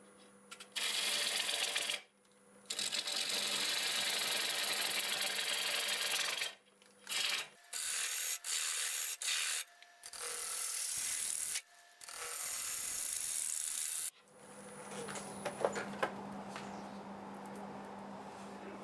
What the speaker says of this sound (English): Doing 700 RPM, and I've got my half-inch bowl gouge.